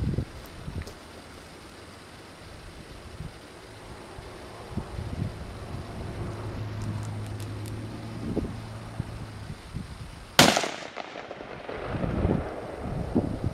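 A 30-06 rifle fires one sharp, loud shot outdoors amid wind and rustling, with a short echoing tail afterward.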